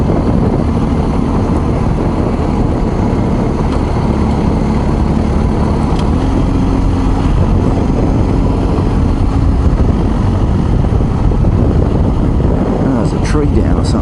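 A BMW R1250 GS Adventure motorcycle engine runs in fourth gear at about 2000 RPM on a slight downhill, a steady low drone heavily mixed with constant wind rush throughout.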